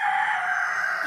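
A rooster crows loudly and close by, a single sustained cock-a-doodle-doo from a small backyard flock of hens and roosters, with no voices.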